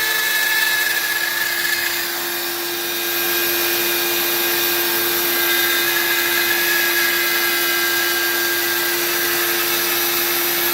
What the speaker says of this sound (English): See that hose right there? Goes down under to the shop vac. Just to pull the stuff out of the air.